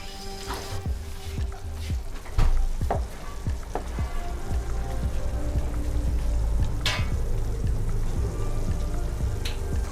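Red chili sauce simmering in a pan with refined oil gives a steady bubbling sizzle, with scattered sharp pops and spatters near the start and a soft crackling bed throughout.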